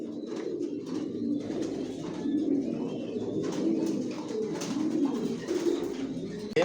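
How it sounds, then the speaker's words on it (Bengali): Racing pigeons in a loft cooing steadily, a layered chorus of low, throaty coos from several nearby birds with occasional faint chirps over a constant background murmur. "এখানে যে কবুতরগুলো দেখতেছেন এগুলো আমার মাস্টার পেয়ার, রানিং পেয়ার।"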